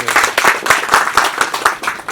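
A crowd at a Bollywood film song launch event claps in a steady, rhythmic beat, about four claps per second, loud and close.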